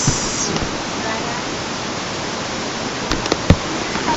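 A river flows at a resort in Majayjay, Laguna, making a constant loud broadband rush of water that fills the scene, with a few faint knocks near the end.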